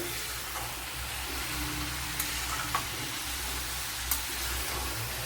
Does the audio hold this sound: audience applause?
no